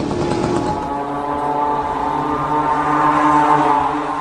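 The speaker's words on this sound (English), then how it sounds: "This is a small moped engine or scooter engine sourced from China at a cheap price." A Shahed-136 drone flies overhead, powered by a small, cheap Chinese moped or scooter engine, giving a loud, steady buzzing drone with a faint pitch drift and no voices.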